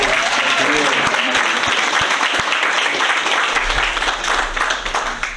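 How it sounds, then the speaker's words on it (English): Applause from the room at a school board meeting for a retiring member honored for 26 years of service, sustained crowd clapping with a few sharp nearby claps and some talk beneath it. "How about another round of applause?"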